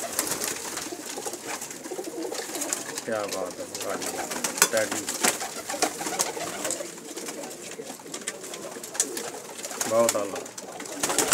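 Pigeons of a prized breed kept by a fancier, cooing softly and repeatedly throughout, partly under men's chatter nearby.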